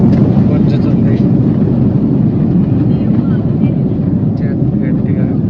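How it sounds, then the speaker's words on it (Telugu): A flight starting its takeoff roll, a loud, dense, steady roar of jet engines heard from inside at close range, filling the whole stretch without letup. "ఇప్పుడే స్టార్ట్ అవుతుంది అనమాట ఫ్లైట్"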